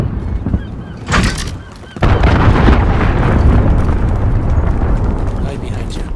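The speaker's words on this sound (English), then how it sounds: "Allied cruise missile on the way." A cruise missile strike in Call of Duty: Modern Warfare multiplayer on PS5 hits with a sudden heavy blast, and the thick roaring rumble carries on for several seconds beneath voices.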